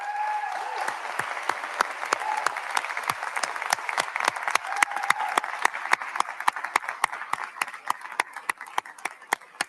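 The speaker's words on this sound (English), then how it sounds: "Members, let's give them a round of applause." Texas legislators applaud in the House chamber on the opening day of the session, loud, close clapping that starts as a dense roar and settles into a strong, increasingly regular rhythmic beat.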